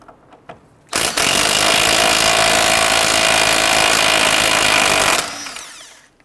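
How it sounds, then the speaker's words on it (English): A power tool with a 22mm socket loosens the tie rod end nut on a 2006-2014 Honda Ridgeline, a loud continuous buzzing rattle lasting about four seconds after a few faint clicks, then cutting off. "Using a 22mm socket, we're going to go ahead and loosen and remove the nut on the tie rod end."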